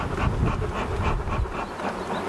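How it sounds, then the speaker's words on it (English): Honeybees buzz around an open hive during a hot-weather inspection, a continuous, steady drone close by, with soft pulsing undertones and no voices. "The bees have been pretty gentle."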